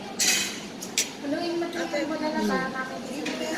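Food is stirred in a pot at a family birthday gathering, with a few metallic clinks of a spoon against the pot under lively nearby talking.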